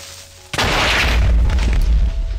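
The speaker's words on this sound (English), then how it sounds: "water will nullify explosions" A single loud, sudden boom of an explosion in water in the Minecraft video game, a sharp onset followed by a sustained muffled roar with no talking.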